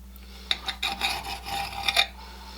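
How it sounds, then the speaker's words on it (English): A knife saws through raw bacon slices in short scraping strokes, a few close rasping cuts over about two seconds with faint background hum. "It's tough to cut the bacon."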